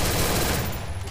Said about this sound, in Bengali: অবশেষে এনিমি সামনে দাঁড়িয়ে পরপর গুলি দিয়ে দিলাম মেরে।